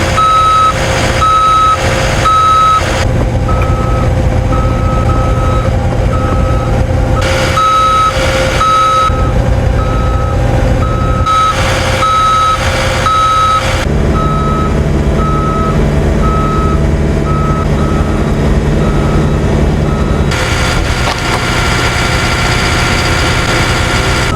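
A skid steer reverses and works at a small business site, its loud repeating backup beeps sounding in bursts over a heavy diesel engine that drones nearby throughout.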